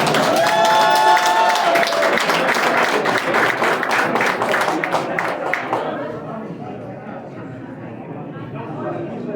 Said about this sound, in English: Give a nice round of applause for our awardee tonight, Dr. Monalisa Ferrari.